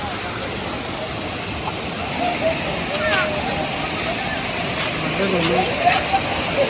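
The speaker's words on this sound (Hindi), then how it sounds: "तो फाइनली यही हो गया कुमरू वाटरफॉल।" Umru waterfall in Karbi Anglong roars as a steady broadband rush of falling water, moderately loud and continuous, with faint voices and a few birdlike chirps over it.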